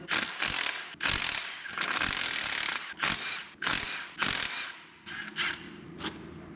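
A ratchet wrench works loose six Allen bolts on a supercharger blower pulley fitted to a stock junkyard small-block engine: close, loud bursts of rapid clicking separated by short pauses, with no talking.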